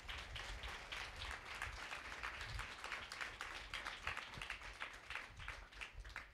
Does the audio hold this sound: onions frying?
no